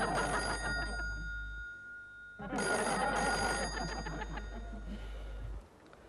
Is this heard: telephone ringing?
yes